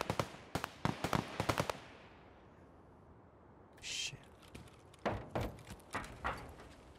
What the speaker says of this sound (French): Ça tire un peu là, c'est bizarre.